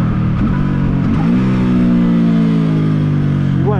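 A Benda Rock BD300 motorcycle engine blips during a downshift, its revs rising briefly and then settling into a steady, loud drone close to the listener, with another quick rise at the end.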